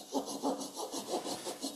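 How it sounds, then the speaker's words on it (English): A hand saw cuts back and forth through a wooden tenon still mounted on a lathe, about six steady rasping strokes close up, with no voices. "I'm gonna saw the rest off of that tenon there"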